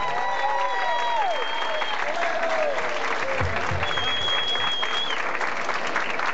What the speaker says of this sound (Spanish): gran y fuerte aplauso al señor Frank Manera, por favor, un gran aplauso.